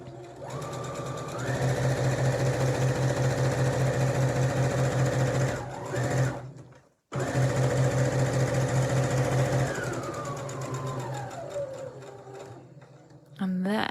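A sewing machine runs close and loud in rapid stitching bursts, sewing fabric for a drawstring activity bag, pausing briefly mid-seam before stitching again and slowing to a stop.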